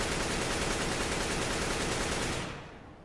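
A dense, steady burst of automatic gunfire from a bot in Counter-Strike: Global Offensive runs nonstop for about two and a half seconds, then cuts off and fades.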